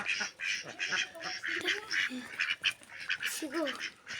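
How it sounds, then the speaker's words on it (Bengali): Ducks quack repeatedly at close range in a lively, irregular series of nasal calls, some overlapping, with a few rising honk-like notes near the end. "হাঁসগুলো আসছে দেখ"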